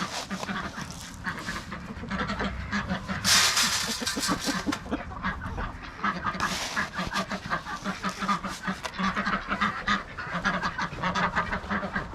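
A flock of ducks at morning feeding quacking continuously and loudly up close, overlapping calls with occasional bursts of splashing or flapping.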